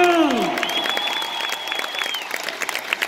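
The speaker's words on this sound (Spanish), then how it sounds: "¡Venga el aplauso," Large arena crowd at a rodeo in Houston's Toyota Center applauding and cheering after a winner is announced, with a sustained tone and swelling hand claps.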